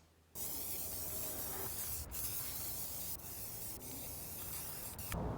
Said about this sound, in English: using Rust-Oleum spray paint in black and Rust-Oleum spray paint in